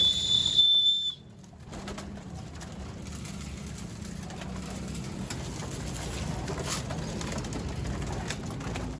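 Pigeons at a loft, soft cooing over a steady outdoor hum, with a brief whistle-like tone at the start before the ambience settles into a constant low background.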